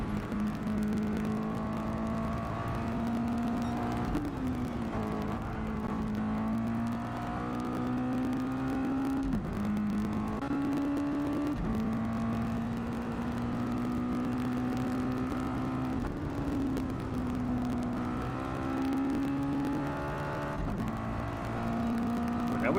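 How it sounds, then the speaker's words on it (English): Mazda MX-5 Miata race cars in a sim racing game, their engines holding a loud, steady harmonic drone with brief dips and rises in pitch through shifts and corners, running continuously throughout. "Listen to these Miatas, chat. They sound absolutely amazing."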